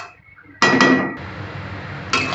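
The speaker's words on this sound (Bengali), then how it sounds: "এবার আমি লাউটা চাপা দিচ্ছি" A lid clanks onto a pot of cooking bottle gourd with shrimp: a sharp metallic knock, a short ringing rattle, a quieter simmering hiss, then another clatter as it settles.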